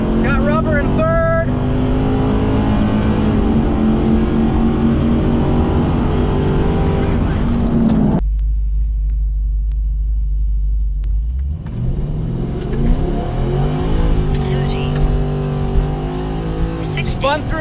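Cammed Chevrolet Caprice PPV police sedan with over 450 horsepower launching on a drag run, a loud close engine roar climbing through the gears with brief shift breaks, then accelerating again.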